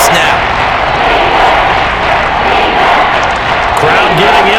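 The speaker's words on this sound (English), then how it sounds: "Crowd getting in it a bit already." Stadium crowd roaring and cheering in Madden NFL 23, Jacksonville All-Time Jaguars versus Houston All-Time Texans, a loud, steady, continuous wash of noise that fills the whole stretch with no breaks.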